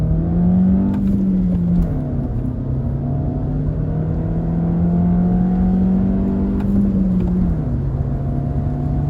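A VW Passat B7 with a 1.4 TSI engine accelerates from 0 to 100 km/h. Its loud, steady engine drone rises in pitch, and brief dips mark two gear changes, heard from inside the cabin.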